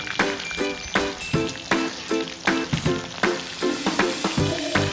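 Chicken 65 pieces frying in a pan over a medium flame, a dense, constant sizzle broken by a regular run of scraping, clinking stirs about once a second.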